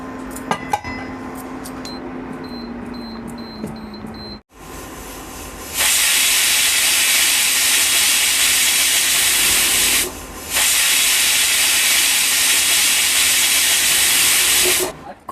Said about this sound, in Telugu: తరువాత మూత పెట్టుకుని 10 విజిల్స్ వచ్చే వరకు ఉడికించుకోవాలి.